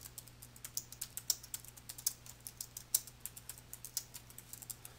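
Someone types on a computer keyboard with quick, uneven keystrokes that click close to the microphone. The tapping is quiet and continues throughout with no voices.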